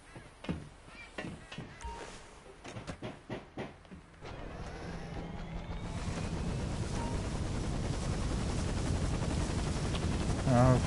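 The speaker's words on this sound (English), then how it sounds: "I guess this is our chopper." A helicopter in the video game Grand Theft Auto 5 spins up, its rotor thump and engine roar building from a low rumble into a loud, steady wash, with talking heard over the early part.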